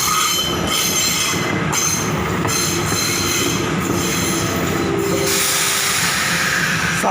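A train rolls through a railway station on Thailand's northern line, loud and close throughout, with continuous rumbling wheels, rhythmic clatter and a high squeal from the rails; no speech is heard.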